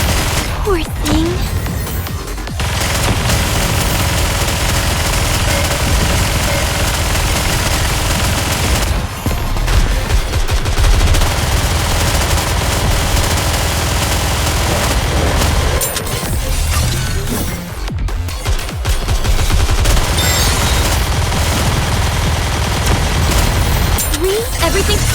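Dense gunfire and explosions from the mobile shooter Nikke fill a loud, continuous battle soundscape, with brief lulls as the fight cuts out and resumes, while voiced character lines play over the action.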